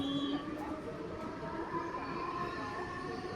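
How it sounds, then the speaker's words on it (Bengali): A cartoon train rolls past, a low rumbling rail sound with faint whistling tones that stays moderately quiet and steady. "ট্রেন শব্দ করে ধুলো উড়িয়ে চলে গেল"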